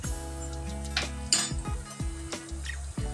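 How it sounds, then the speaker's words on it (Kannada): Spoon scraping and clinking in a pan while spiced egg masala with garam masala and coriander powder is stirred, repeated metallic scrapes in an uneven rhythm over a low sizzle and a steady kitchen hum, close and alone. "ಇದನ್ನ ಹಾಕಿ ಚೆನ್ನಾಗಿ ಮಿಕ್ಸ್ ಮಾಡ್ಕೊಳ್ತಾ ಇದ್ದೀನಿ."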